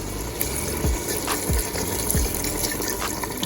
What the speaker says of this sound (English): So at this point now I'm gonna put some warm water just to cover the meat.